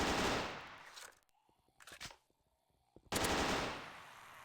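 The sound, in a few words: gunfire in a zombie FPS video game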